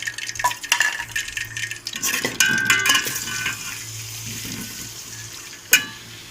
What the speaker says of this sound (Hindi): मैं प्याज ब्राउन कर रही हूँ